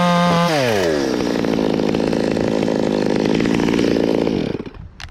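A top-handle tree-climbing chainsaw revs up and cuts steadily through wood high in a tree for about four seconds, loud and close, its engine whine holding firm before dropping off sharply as the chain runs loose.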